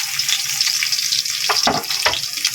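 Garlic sizzles and fries in a pan for chicken adobo, a steady close hiss with a few louder stirring scrapes near the end, no talking.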